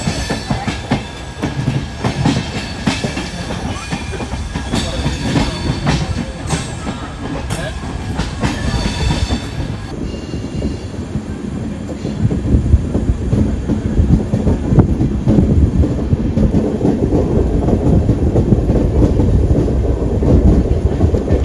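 The Sabari Express, running with new LHB coaches, pulls out of a station in a long, steady rumble of wheels on rail, loud and close.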